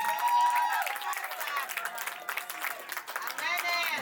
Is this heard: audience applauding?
yes